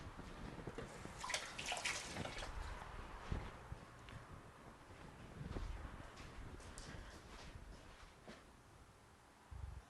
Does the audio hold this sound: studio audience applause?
no